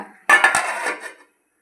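A metal lid set down on a pot of simmering onion kara kuzhambu gives a single close clatter and brief rattling clink, which fades within about a second into silence.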